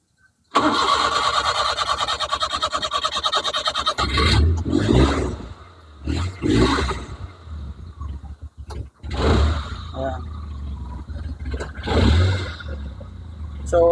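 A carbureted gasoline engine that sat unused for a long time, low on engine oil, cranks with a steady whir, then catches and sputters into rough, uneven revving up close, with no talk over it.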